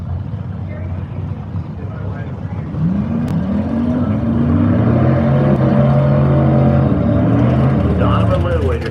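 Outlaw 8.5 small-tire drag racing cars at Woodburn roar loudly at the eighth-mile track, engine tone rising and sweeping in pitch as they launch and accelerate, close and continuous under a dense noisy background.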